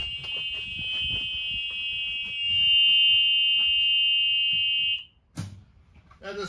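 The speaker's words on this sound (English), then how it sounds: "I gotta go hit the child alarm on my school bus back here" A school bus child-check alarm sounds as a loud, steady electronic tone for about five seconds, then cuts off, leaving brief clunks and rustling noises afterward.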